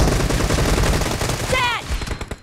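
Rapid gunfire in a PUBG Mobile team deathmatch, loud and continuous bursts that thin out toward the end, with a brief rising tonal game sound partway through and no talking.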